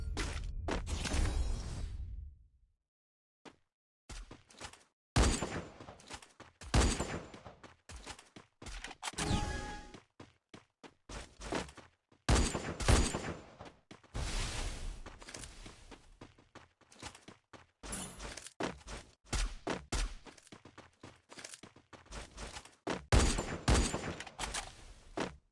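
Gunfire from a P90 and other weapons in the Free Fire battle royale game: repeated bursts and single shots, loud and close, broken by short quiet gaps, with whooshes and footsteps mixed in and no talking.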